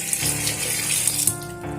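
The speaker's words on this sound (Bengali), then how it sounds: "শিমগুলোকে খুব ভালো করে ধুয়ে নিচ্ছি।" Flat beans rinsed under a running kitchen tap, a steady close splash of water that continues without a break for the whole two seconds.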